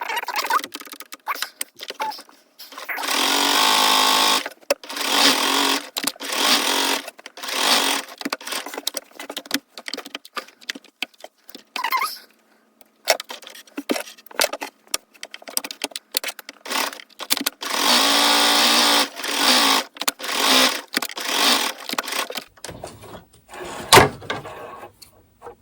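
Sewing machine running long bursts of stitching along the hem of children's shorts, a steady mechanical whir broken by short pauses and clicks, close and fairly loud with no talking.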